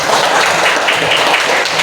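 A classroom of students applauding together at a teacher's prompt, a dense, steady wash of many hands clapping at close range with no voices over it.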